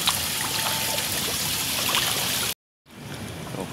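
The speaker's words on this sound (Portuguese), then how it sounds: "Ai, água geladinha, hein, cara." Cold water running in a steady trickling stream, close and loud, cutting off briefly before resuming more faintly.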